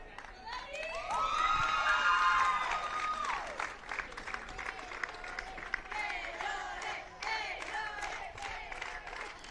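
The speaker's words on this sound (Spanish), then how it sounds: "con la ovación de sus compañeras de selección." A women's softball national team cheers and applauds as the tournament's best player receives her trophy: loud clapping with high shouts and whoops building and then continuing steadily, with voices talking over the crowd.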